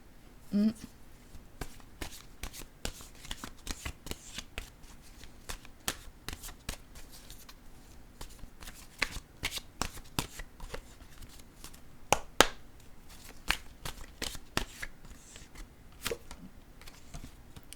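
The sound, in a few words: shuffling tarot cards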